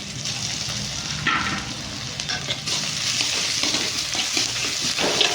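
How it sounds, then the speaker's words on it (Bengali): Ginger garlic paste frying with browned onions in a pan, a continuous close, loud sizzle with bursts of stirring and spattering throughout. "এবার এটা আদা রসুনটা দিয়ে দেবো।"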